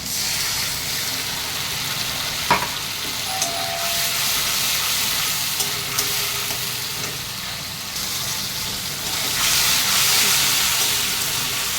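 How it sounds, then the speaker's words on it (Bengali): Mustard paste frying in hot oil in a pan for a parshe fish curry, a loud continuous hiss and sizzle with an occasional sharp clink of a utensil, swelling near the end. "সর্ষেটা আমি বেশিক্ষণ ভাজবো না"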